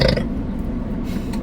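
A person lets out a long, low, rumbling burp up close during a chicken nugget eating challenge. It sounds alone, with no talk over it.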